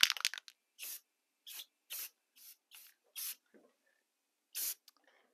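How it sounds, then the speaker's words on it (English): Rust-Oleum clear matte finish sprayed from an aerosol can onto chalk-coated model rock, heard as short sharp hissing bursts with pauses, about eight puffs, close and alone in quiet. "This is some Rust-Oleum clear matte finish that I like to use on chalks like this."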